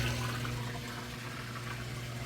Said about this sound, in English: You hear it running that drain there nice and fast.